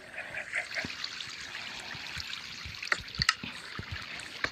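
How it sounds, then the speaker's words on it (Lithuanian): Water trickles and flows downward in the Minecraft video game, a steady, faint gurgling stream with a few brief clicks near the end. "reikia patikrinti, ar vanduo leidžiasi žemyn"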